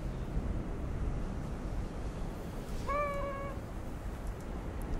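A cat meows once in the Little Inferno video game, a short clear mew heard fairly faintly over a constant low rumbling background, with no voices.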